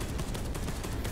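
Turret gunfire in the sci-fi shooter Space Hulk: Deathwing, a brief rapid burst of automatic shots crackling in quick succession, loud and continuous for about a second.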